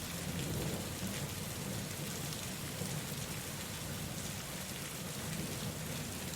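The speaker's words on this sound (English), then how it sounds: "Hearing the distant thunder as it rolls across the sky." Steady rain falls on surfaces during a thunderstorm, a constant dense hiss with low rumbling of distant thunder rolling underneath, with no voices.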